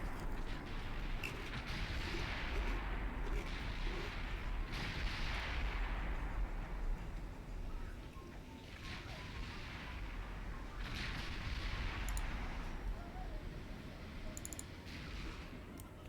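Battleship main guns fire during a naval battle in Ultimate Admiral Dreadnoughts: deep, rumbling booms roll out again and again at irregular intervals over a steady low roar of sea and combat, with no talking.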